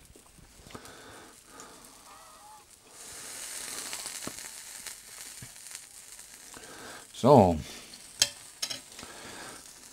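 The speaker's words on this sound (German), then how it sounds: "ihr hört, die Wurst brutzelt hier auch fleißig vor sich hin" Sausage sizzles on a 1600-watt Gourmetmaxx ceramic raclette grill, a faint steady frying hiss with occasional clinks and stirring, while a voice briefly speaks and a sharper crackle stands out near the end.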